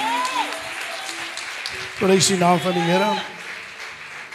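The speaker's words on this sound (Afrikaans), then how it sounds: "Halleluja, kom ons gee hulle nog 'n lieflike hande klap" A congregation at a memorial service claps along faintly in the background while a voice speaks clearly over it, the applause a soft steady patter under the words.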